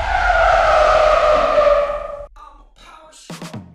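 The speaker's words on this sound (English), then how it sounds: "Let's stop the truck." A truck brakes to a stop with a loud, sustained tire-squeal screech that cuts off abruptly after about two seconds, leaving quieter clunks and a brief noise burst.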